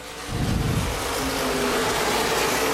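Open-wheel modified race cars at Baer Field Speedway roar in a continuous, loud wash of engine noise as a pack accelerates, with a surge near the start settling into a steady drone.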